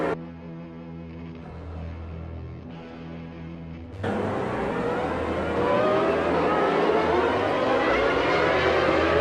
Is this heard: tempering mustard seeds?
no